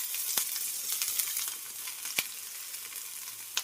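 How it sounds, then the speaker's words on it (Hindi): Green chillies and onion with cumin sizzling in a pan of hot oil while being stirred, a close, steady crackling fry with a few sharp spatters and spoon scrapes, no talking. "ओकर बाद हरी मिर्चा, लंबे तरह अच्छे से भून लेगा।"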